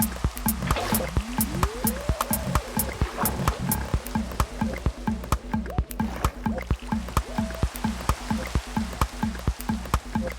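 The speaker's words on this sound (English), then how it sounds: "The water elevator is pretty safe and pretty fun." Flowing water in a Minecraft water elevator, a steady rushing trickle under a loud, regularly pulsing game sound and occasional rising tones, continuous and close.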